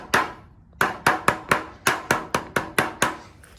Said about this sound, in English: tap at it on a hammer until it looks good enough